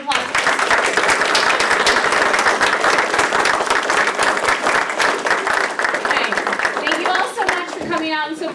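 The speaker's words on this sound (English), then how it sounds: "Let's do a big round of applause." A large audience claps steadily at a homestead history program, a dense, loud round of applause that holds for several seconds before thinning out, with a few voices and a child's speech near the end.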